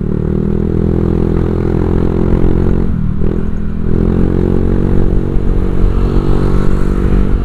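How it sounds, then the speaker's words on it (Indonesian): Motorcycle fitted with a ZRC aftermarket exhaust, heard while riding on the road: a steady, loud engine drone with a layered, rumbling tone, a short dip around the middle, then a continuous run to the end. "Ini gue masih pakai knalpot ZRC ya."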